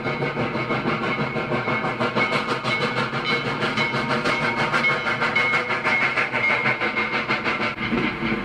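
Passing train pulled by the restored Nickel Plate Berkshire 759 steam locomotive, a loud continuous rumble with rapid rhythmic chuffing and rail clatter sustained throughout, no voices.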